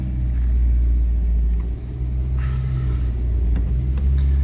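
A Polonez car engine running steadily at idle, a loud, continuous low rumble close by with a brief dip in level midway, no talking.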